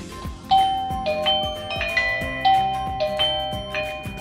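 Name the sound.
Eufy 2K video doorbell chime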